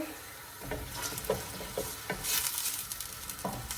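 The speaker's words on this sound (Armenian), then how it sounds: "թողեմ սոխարած լինի, լավ հավեսով, ոսկեգունի" A whole chopped onion fries in oil, a soft close sizzle with spatula stirs and scrapes against the pan coming every half second or so, and no talking.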